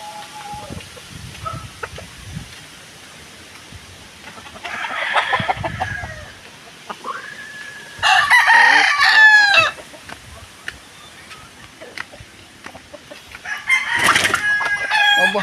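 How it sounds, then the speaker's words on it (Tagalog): A rooster crows several times at a house-building site, loud and close, with clucking and other fowl sounds between the calls; no one speaks. "Obo, nakakagat lang ang manok"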